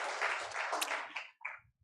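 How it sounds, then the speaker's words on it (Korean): A church congregation at a Korean Thanksgiving Sunday service bursts into brief, dense applause that fades out within a couple of seconds, heard alone without talk. "영광의 박수 올려드리겠습니다."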